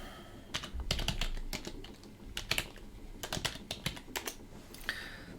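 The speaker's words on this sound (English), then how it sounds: "my fingers are getting cold, which is getting more difficult to type" Fingers tap out a password on a computer keyboard, a close, uneven burst of key clicks with brief pauses and a heavier key press near the end.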